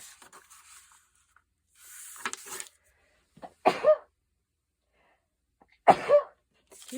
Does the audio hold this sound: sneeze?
yes